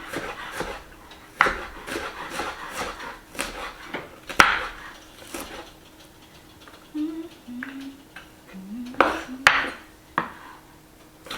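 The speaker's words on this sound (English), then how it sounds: "And so I'm just dicing this up." An onion is diced with a knife on a cutting board in a home kitchen, giving a series of sharp, close chops in irregular bursts with pauses between, and a faint rising tone in the background.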